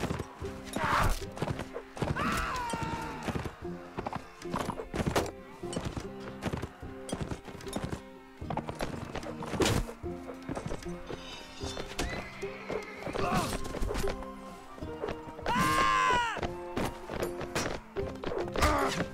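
A horse in a medieval Hundred Years War battle video game neighs and whinnies repeatedly over rhythmic galloping hoofbeats, with thuds and whacks of combat mixed in, loud and close throughout.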